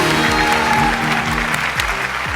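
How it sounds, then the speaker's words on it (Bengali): A comedy-show crowd at Ha-Show Season 07 keeps up a full, continuous round of clapping, loud and even throughout, with a soft musical sting running beneath it. "আর জোরে হাততালি, জোরে!"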